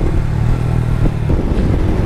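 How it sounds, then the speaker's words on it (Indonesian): Motorcycles speed along a small riverside road, a loud, close engine drone with a low throaty rumble and a faint rattle, holding steady for a couple of seconds. "Berarti ngebut ya orang bawa motor nih"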